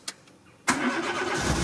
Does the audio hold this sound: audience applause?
no